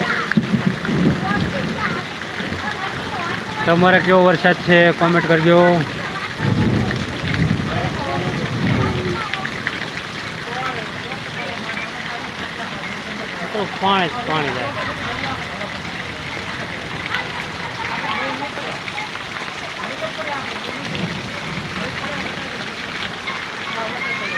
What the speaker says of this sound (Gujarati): જબરજસ્ત વરસાદ વીજળીના કડાકા ભડાકા સાથે